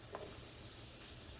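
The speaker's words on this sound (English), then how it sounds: "I really do want to saute the kimchi and the rest of the ingredients" Sliced duck meat and kimchi sautéing in a pan, with a soft, steady, low sizzle and a faint stir near the start, quiet and close.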